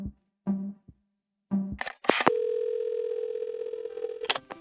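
A telephone dial tone in a video game: a few short tones and clicks as the handset is lifted, then a long steady hum that holds before cutting off with a click.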